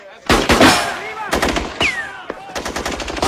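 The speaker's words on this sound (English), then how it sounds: "Alina, you've seen the shooting." Rapid machine-gun bursts from a war drama film rattle loudly in several close volleys, with a voice calling out between the bursts.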